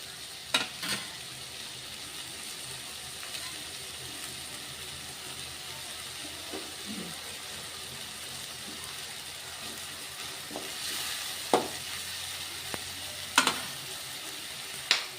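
Onion and tomato fry quietly in a pan until soft, a low steady sizzle broken by occasional sharp spoon clinks and scrapes against the pan.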